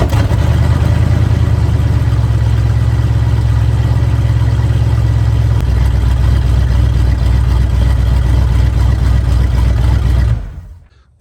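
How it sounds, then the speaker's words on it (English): A carbureted engine in an old abandoned bus, unused for over ten years and running without a catalytic converter, rumbles steadily and loud for about ten seconds, its pitch dropping partway through, then cuts off abruptly. "for a carbureted engine that sat for over 10 years, I have no idea why that started like it did."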